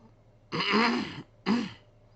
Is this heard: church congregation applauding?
no